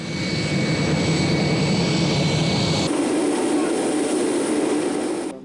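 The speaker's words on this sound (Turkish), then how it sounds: "Kısa bir bekleyiş sonrası Fenerbahçe'yi taşıyan uçak Trabzon'a iniyordu." The airplane carrying the Fenerbahçe team lands in Trabzon, a steady loud roar of jet engines heard alone, shifting in tone partway through.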